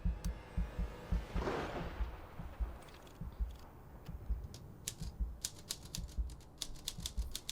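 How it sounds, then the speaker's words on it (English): Typewriter keys clatter in the Jenny LeClue video game, starting with a few scattered strikes and building to a rapid run of sharp, close clicks over a low rumbling storm-like background. "very urgent to write on their typewriter"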